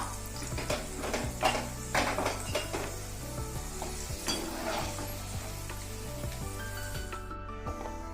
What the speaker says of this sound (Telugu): మిగిలిన అన్నీ కూడా ఆ విధంగానే వేయించుకుందాము